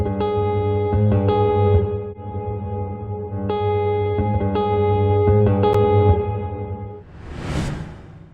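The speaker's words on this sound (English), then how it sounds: "I also added this lick separately with some distortion and chorus to add subtle grit and" Guitar lick played through distortion and chorus effects, sustained ringing tones with bright overtones, a few note changes, and a whooshing swell near the end, all without voices.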